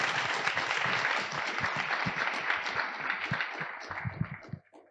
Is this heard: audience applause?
yes